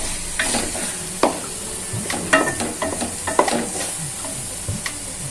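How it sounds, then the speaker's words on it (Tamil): A spoon scrapes and clatters around a frying pan as thick chicken tikka masala is stirred, irregular sharp knocks over a soft sizzle. "இந்த மசாலாலாம் சேர்த்து இப்படி கொஞ்சம் எல்லாம் கிளறி விடலாம்."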